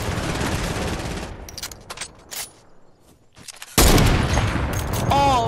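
Video game gunfire rattles in rapid bursts as players shoot down trees. Dense automatic volleys open the stretch, then come a few scattered shots in a brief lull, followed by another loud sustained burst.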